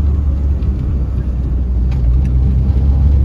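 A repaired Mitsubishi Lancer engine, no longer misfiring, runs loud and close with a steady low rumble and slight revving swells, continuous throughout with no talk over it.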